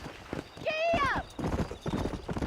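A horse in the video game Red Dead Redemption, clip-clopping hooves at a steady close rhythm with a sharp whinny near the start, while voices talk over it.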